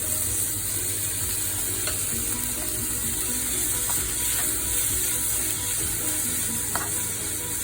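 Rinsed quinoa sizzling in a pan of fried masala as it is stirred, a dense, steady crackling hiss close by with occasional scraping clicks and no talking.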